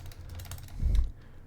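Keys tapped on a computer keyboard while entering a role name, a quick run of soft, close clicks followed by a duller low thump, with no talk.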